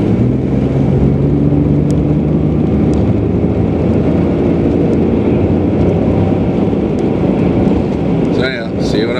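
Steady broadband road and engine roar from a car cruising along a Canadian highway, loud and continuous throughout, with a brief rustle near the end.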